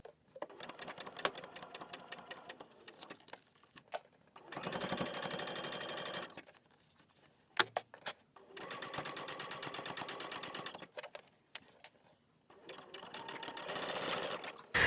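A machine embroidery unit stitches a pumpkin quilt block in rapid buzzing runs, three long bursts separated by quieter pauses and lighter clicking, close and clear.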